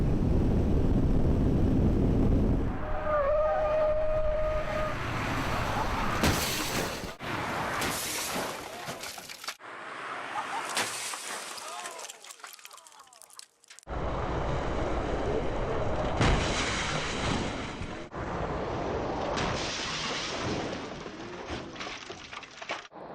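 An old car is rammed by a push vehicle during a crash test, giving harsh crunching, scraping and breaking noise with several loud impact bursts over a long, noisy stretch.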